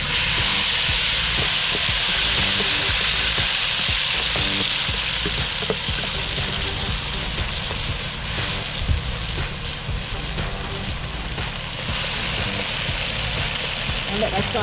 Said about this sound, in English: let that saute for a few minutes